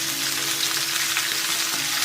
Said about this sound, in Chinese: 我们给它每个面都煎一下，多翻动，煎到表面有焦斑，大概8成熟。